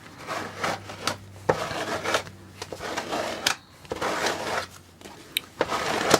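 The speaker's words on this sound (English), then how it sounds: "take this now and scrape as much excess wax off as I can get" Beeswax being scraped off a fabric food wrap, a series of dry, rasping scrapes in repeated strokes, close and moderately loud with brief pauses between passes.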